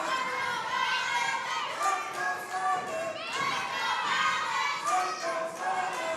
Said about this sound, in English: Few people in the crowd chanting for Simon Phillips